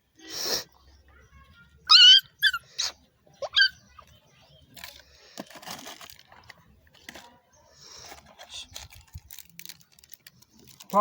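A puppy being given an injection gives several short, high-pitched yelps and whimpers close by, in bursts separated by quiet moments.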